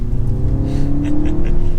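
Synthesized engine sound of a 2025 Mini Cooper S Hard Top piped through the cabin speakers while driving on twisty roads, a steady revving drone, loud and close with no talk.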